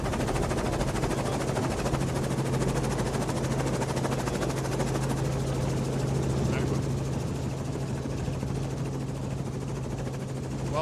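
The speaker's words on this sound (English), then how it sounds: "We're going to try and pop up to Neil Gardner, who's up in the helicopter there" Helicopter hovering above a mountain bike stage race, a steady, loud rotor thrum and engine roar filling the whole stretch without letup, with a low constant hum beneath it.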